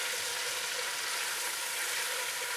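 Paprika being stirred into goulash frying in a pot, a steady close sizzle and hiss that holds evenly throughout with no voices.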